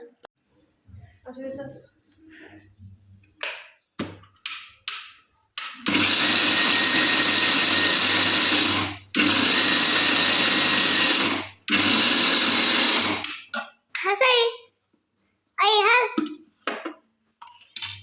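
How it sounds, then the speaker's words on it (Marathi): A mixer grinder whirs loudly in three long bursts with short pauses between, grinding sago (sabudana) for papad, while people talk before and after the grinding. "तर आता एवढा साबण मिक्सरमध्ये पहिला बारीक करून घेऊया"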